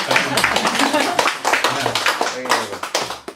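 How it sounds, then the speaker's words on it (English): Audience applause for Paul Newman at a poetry reading, a short burst of scattered, uneven hand claps with a voice talking over it. "And more applause, please, for Paul Newman."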